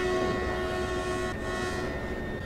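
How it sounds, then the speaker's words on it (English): A train horn sounds in the Train Simulator video game at a station, one sustained loud tonal blast under a steady rumble of rolling wheels, with no one speaking. "I'm not sure if it's a requirement to blow your horn every single station, but I'm gonna do it anyway just in case"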